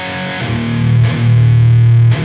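Heavily distorted electric guitar plays thick, fuzzy sustained low notes through an overdrive pedal into a distorting tube amp, loud and saturated metal tone, with a couple of chord changes.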